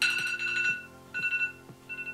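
Electronic timer beeping like an alarm clock during a skincare face-mask session, with bursts of rapid high-pitched beeps repeating in short groups separated by brief gaps, fairly quiet and alone with no talk.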